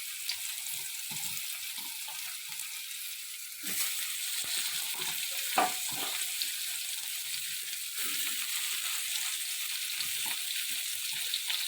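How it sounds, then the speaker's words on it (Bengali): Ridge gourd frying in oil in a home kitchen, a steady soft sizzle running throughout with a few light clinks and stirring scrapes, growing a little louder partway through. "ঝিঙেগুলো একটু ভেজে নেব।"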